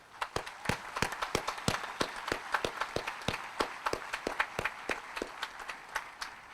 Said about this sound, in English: So please, big round of applause for them.